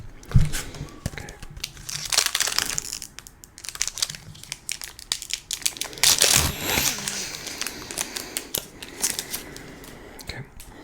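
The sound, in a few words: tearing open Pokémon and Yu-Gi-Oh booster packs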